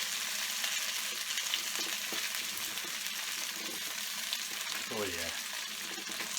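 Steamed cabbage muthiya slices fry in a pan, a soft steady sizzle with light clatters. A short voice comes in near the end.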